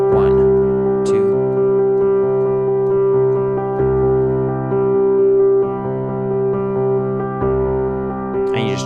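Worship piano playing a steady four-beat rhythm pattern, a low bass note landing on each first beat, sustained chords ringing loud and close with no talking.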